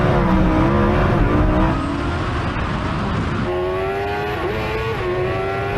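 A motorbike, a Kawasaki against a modified Niu, accelerates hard from a rolling start in a drag race, its loud engine note climbing steadily in pitch, dropping briefly as it shifts, then rising again, with no talk.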